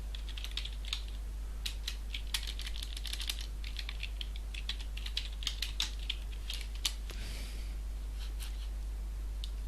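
Keyboard typing on a computer while opening system settings: quick, uneven runs of light clicking keystrokes, close and moderately faint, with no voices over it.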